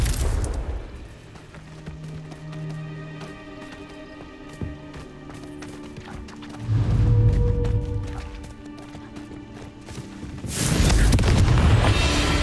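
Confringo explosive spell blasts in the Hogwarts Legacy video game, two heavy booming bursts with a rumbling low end, separated by quieter game ambience and clicks, the second blast near the end and loud.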